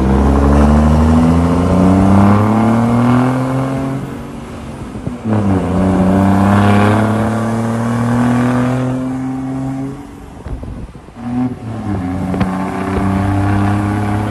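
A heavy diesel truck engine, a Scania or 1418-type rig, revs hard and repeatedly, its loud droning harmonics rising and falling through each push, with brief throttle drops near the end, close and continuous.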